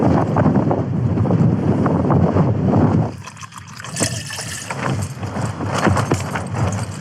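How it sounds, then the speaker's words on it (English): Strong wind buffets a tent campsite, a loud roaring rush hitting the microphone for the first few seconds, then dropping to a thinner gusting whoosh with flapping and rattling, close and continuous, with no speech. "Yeah, the wind's coming in."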